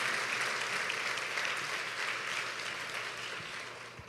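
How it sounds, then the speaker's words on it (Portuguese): A church congregation breaks into sustained applause, a dense, even wash of many hands clapping that slowly fades toward the end. "Dê para Ele mais uma forte salva de palmas"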